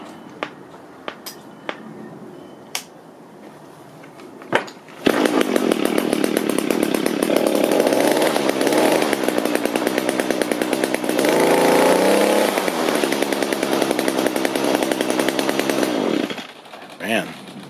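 An old Echo string trimmer, freshly fitted with new fuel lines and a filter, is pulled a few times with the choke on, then fires and runs at a loud, steady buzzing idle before cutting off, with some talk underneath.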